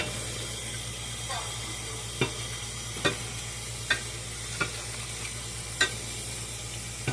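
Bacon fries in a pan with a constant hissing sizzle, broken every second or so by a single sharp pop, close and steady with no talk.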